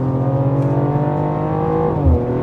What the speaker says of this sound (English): the exhaust note alone is worth this car